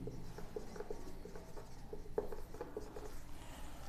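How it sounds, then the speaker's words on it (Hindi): A pen writes on paper near the listener as a steady soft scratch, broken by little taps and strokes from forming letters, with a dull hum behind it and no talking. "तो इसके लिए हम लिखेंगे"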